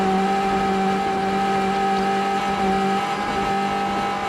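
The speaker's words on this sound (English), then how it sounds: "the engine fighting uphill there" Rally car engine in the racing game Assetto Corsa Rally, labouring uphill with a loud, sustained drone and steady tones, holding at high load throughout with no talk.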